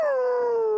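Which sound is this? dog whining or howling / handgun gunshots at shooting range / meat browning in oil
dog whining or howling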